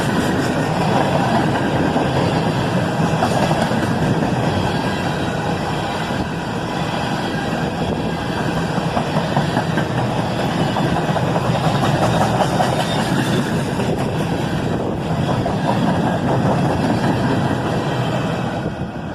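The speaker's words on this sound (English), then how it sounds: "he's at full track speed now with the rails singing away" Freight train hauling empty slab cars rolls past at full track speed, a steady loud broadband roar of wheels and rails with a ringing high tone, continuous throughout with no voices.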